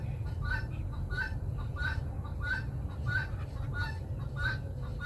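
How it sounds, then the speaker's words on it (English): Noisy birds chatter in the background of a workshop, repeated rhythmic clucking calls every half second or so over a steady low hum, moderately distant. "That's for the noisy birds."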